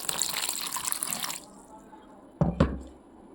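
Water poured into a bowl of multigrain health-mix flour, a brief splashing pour that stops abruptly, followed by quiet and then a couple of soft knocks as the mix is stirred.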